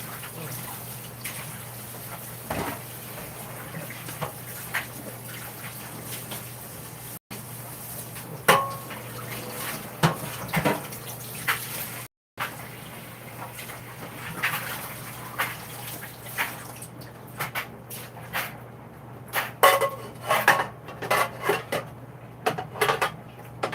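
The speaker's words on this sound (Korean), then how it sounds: "잠깐만 설거지 좀 해놓을게요. 물로만 할 거야." Dishes are washed in a kitchen with water only: running water hisses steadily while dishes clatter and knock in scattered bursts for over twenty seconds.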